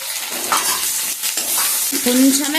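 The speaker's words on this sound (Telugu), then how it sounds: "పచ్చిమిరపకాయలు ఈ విధంగా ఎగితే చాలండి." Green chillies and lentils sizzle and crackle in a hot pan while being stirred in short bursts, close and moderately loud, with no voices over them.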